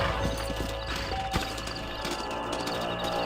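Several horses clip-clop on hard ground in the Red Dead Redemption video game as riders dismount in a canyon, with steady overlapping hoofbeats, a faint whinny and a few clanks.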